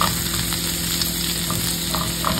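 Garlic sizzling in oil in a pan for spaghetti sauce, a steady, loud close-up frying hiss with occasional small pops and crackles.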